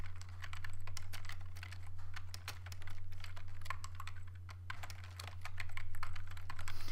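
Rapid, steady clicking of keys on a computer keyboard as Inform 7 code is typed, continuing for the whole stretch over a constant low electrical hum.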